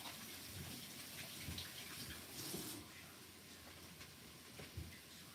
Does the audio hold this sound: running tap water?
yes